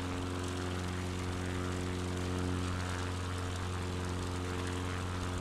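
Propeller aircraft in a flight simulator game, its engine holding a steady, loud droning hum with strong tonal harmonics, unbroken and without voices.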